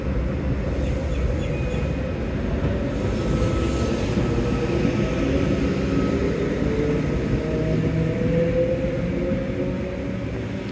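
An old train rolls along on a rainy night, with a steady, loud rumble of wheels and carriage noise running unbroken throughout and no voices.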